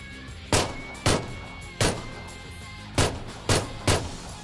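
Pistol gunshots in a video game: six punchy shots at uneven intervals over a few seconds, loud and close over a steady game background.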